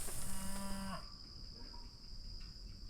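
A Mashona Angus cow gives one drawn-out low moo lasting about a second, fairly close. It fades into a quiet outdoor background with a steady insect whine.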